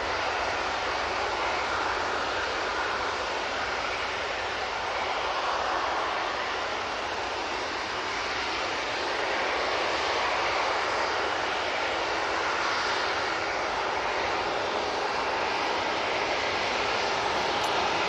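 Airbus A330-200 jet engines at Manchester Airport produce a sustained, broad roaring whoosh that holds steady and slightly swells, moderately distant, with no talking.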